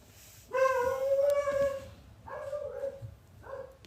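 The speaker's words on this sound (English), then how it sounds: "man, I hate when they bark like that" A mother dog near her puppies gives several loud, close barks and higher whimpering yips, a long bark followed by shorter cries after a pause.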